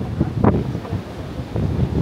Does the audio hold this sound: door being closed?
no